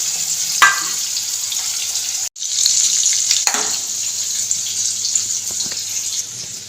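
Tap water running steadily onto a burned hand at a home sink, a continuous close splashing hiss with a brief break in the middle, and no talking.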